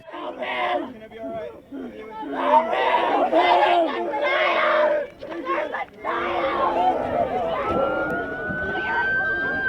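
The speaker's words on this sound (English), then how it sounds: "The most notable sounds are the screams of the wounded and the sirens of emergency vehicles." Agitated voices and screams of the wounded fill a mock traffic accident drill while a rising emergency vehicle siren starts wailing toward the end.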